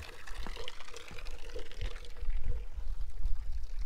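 Water pours steadily from a pipe at a village stop on the Everest base camp trek, a close continuous splashing stream with small gurgles.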